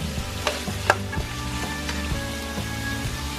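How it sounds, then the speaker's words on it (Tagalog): Bopis simmers with vinegar in a pot, a steady bubbling, sizzling bed with soft, irregular pops and a couple of slightly sharper blips, and no voices. "Hayaan nyo lang siya kumulo."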